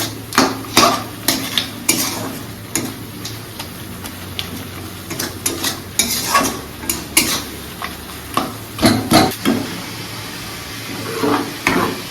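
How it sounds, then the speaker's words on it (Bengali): Broken fish head pieces in curry are sautéed in a pan: a spatula scrapes and knocks in quick, uneven strokes over a light sizzle, close and fairly loud. "আর এখানে মাছের মাথাটাকে ভেঙে টুকরো টুকরো করে নিয়ে এর মধ্যে দিয়ে দিলাম।"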